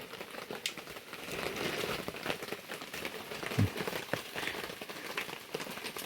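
Rain patters and crackles on a surface outdoors as it begins to ease, an uneven, fairly quiet texture with scattered sharper drops and one low thump.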